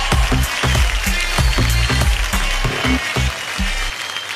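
Studio audience applause on a Kapil Sharma comedy talk show episode featuring Salman Khan and Katrina Kaif: loud, sustained clapping with rhythmic low thumps running through it, filling the whole stretch without talk.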